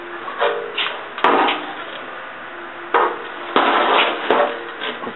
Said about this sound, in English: I'm taking my dolly, this guy, and pushing down along the edge of that slit and hammer and dollying along it.